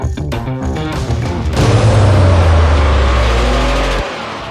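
A Porsche pulls away with its engine revving hard. The loud, close roar builds after a brief lead-in and holds steady before dropping off sharply at the end.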